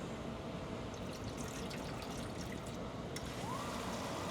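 Water poured into a Little Giant condensate pump's reservoir, a steady close trickle and splash filling the unit throughout, with no talk.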